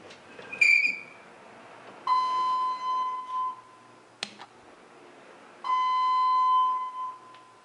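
Chime of a brand-new ThyssenKrupp hydraulic elevator in a building in Fenton, Missouri: two clear sustained bell tones sounding about three seconds apart, with a faint click and a brief higher beep earlier, in an otherwise quiet space.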